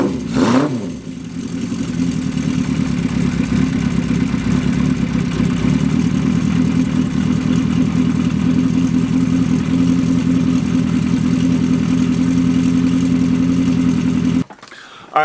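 A Honda CB400F cafe racer motorcycle engine runs close by, holding a steady, loud, throbbing idle for about fourteen seconds before it cuts off abruptly near the end.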